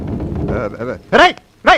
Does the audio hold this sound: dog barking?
yes